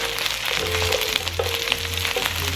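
Chicken pieces sizzle steadily in hot oil in a pan and are flipped after three minutes of cooking untouched, a loud continuous frying hiss close by with faint scrapes of the turner, no voices.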